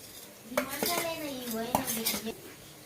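Spices and ginger-garlic paste are stirred into a tomato pakodi curry in a pan, with repeated metal clinks and scrapes of a spoon against the pan and a soft sizzle underneath.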